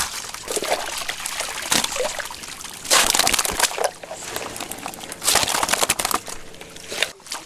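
Seawater drains out through a stone fish weir at ebb tide on the coast at Taean, trickling and sloshing in uneven bursts, with louder gushes now and then, close by and with no voices.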